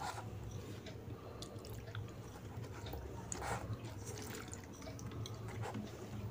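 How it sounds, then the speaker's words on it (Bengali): Water trickles and drips onto lime being mixed for ash gourd murabba, a quiet, close, irregular splashing in a home kitchen with no talk. "একটু জল দিয়ে দিচ্ছি"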